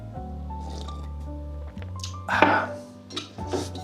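Coffee poured into a cup at close range, a brief liquid gurgle and splash lasting a couple of seconds over a steady low hum, with no one speaking.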